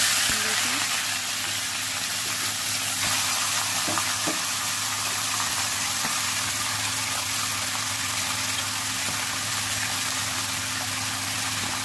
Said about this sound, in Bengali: এবার তেলটা গরম হয়ে গেলে এর মধ্যে ম্যারিনেট করে রাখা চিকেনগুলোকে দিয়ে দেবো।